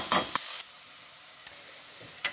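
Onion frying in a pan for samosa filling, with a bright sizzle that is strongest at first and then settles to a soft steady hiss, broken by a few sharp clicks of stirring.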